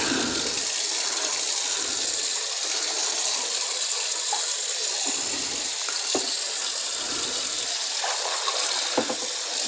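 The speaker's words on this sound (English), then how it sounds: "Then run cold water over them" Cold tap water running steadily over cyanotype paper in a sink, a continuous hissing splash with a few brief drips and shifts in flow, close and without voices.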